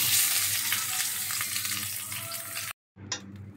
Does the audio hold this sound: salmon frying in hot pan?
yes